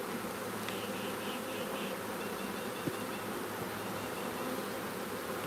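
A live honeybee swarm drones in a dense, continuous buzz close by, steady throughout with no voices over it.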